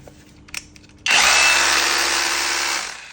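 A Makita power drill whirs up suddenly after a few light clicks, running at a steady high-pitched whine for about two seconds before winding down.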